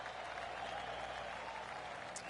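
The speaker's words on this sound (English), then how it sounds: "Sometimes you've just got to stand up and applaud" Crowd applause in PGA Tour 2K25 after a near-holed golf shot, a steady dense clapping wash that holds at an even level from start to finish with no speech over it.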